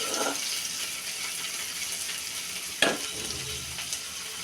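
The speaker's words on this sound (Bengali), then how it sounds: "চিংড়ি মাছ ভালোভাবে ভেজে নিব।" Shrimp fry in oil with onions, making a steady close sizzle. One sharper clatter of a pan or utensil breaks in partway through, and no one speaks.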